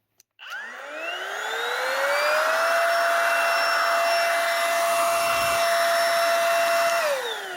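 A cordless brushless electric blower with an LED light spins up from a click, its whine rising to a steady loud rush with a clear motor tone, then winds down near the end.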